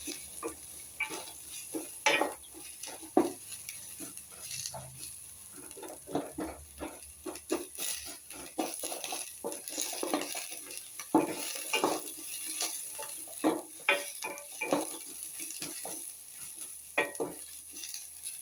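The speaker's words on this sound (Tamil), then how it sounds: "கொஞ்சம் மாற்றி சிம்மில் வச்சுட்டு வதங்கட்டும்" Mixed vegetables sauté on a low flame in a pan for basmati pulao, with repeated scraping stirs and clicks over a soft, continuous sizzle.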